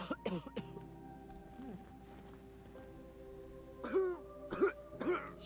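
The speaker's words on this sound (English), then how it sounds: "Seems to be a lot of Mardet's coughing." Character in the video game The Outer Worlds coughing and clearing the throat in short bursts near the start and again in a cluster of three at the end, over a steady ambient hum and background game noise.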